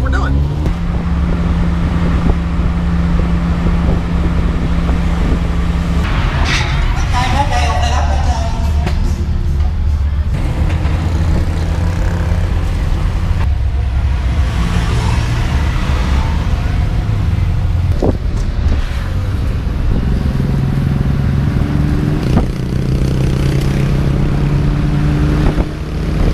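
Ride in a tuk-tuk along a road in Thailand, the small motor droning continuously and loudly with shifting pitch, wind and traffic noise around it, and voices heard underneath.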